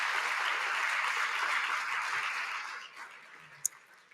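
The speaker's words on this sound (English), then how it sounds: "Another round of applause." A conference audience at a direct air capture event gives a round of applause, steady moderate clapping that fades out over the last second, ending with a single sharp click.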